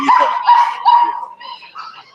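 Small puppies barking in a quick run of high, yappy barks and yips, fairly close and loud, with softer whimpering yelps trailing off, at an outdoor Ford dealership event.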